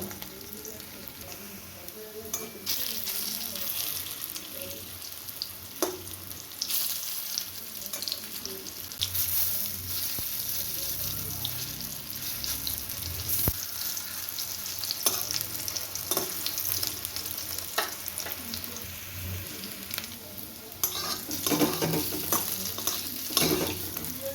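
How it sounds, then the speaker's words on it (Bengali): Banana flower fritters (mochar bora) deep-frying in hot oil over medium heat, a continuous bubbling sizzle with occasional scraping and stirring clatter, sustained and fairly close throughout. "এইভাবেই আমি সব কটা বড়া ভেজে নেব"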